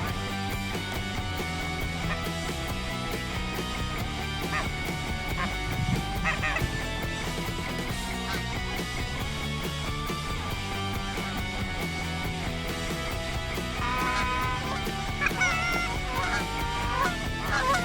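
Geese flying in at sunrise during an early season goose hunt in Saskatchewan, their honking calls repeated over a steady wash of background noise, growing denser toward the end with no one talking.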